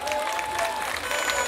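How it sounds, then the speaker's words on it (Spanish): Crowd at a lucha libre wrestling show at a fair, applauding for the women wrestlers; a short burst of dense clapping and crowd noise, loud and continuous, with faint whistle-like tones over it. "¡Aplauso a las damas!"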